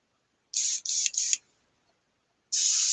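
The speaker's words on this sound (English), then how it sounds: "I'm spraying on low pressures, I'm not having to overly worry about clouds of overspray getting into the air" Airbrush spraying paint onto a scale model at low pressure with a window open: three short hissing bursts in quick succession, a pause, then another steady hiss, fairly soft and close with no talk.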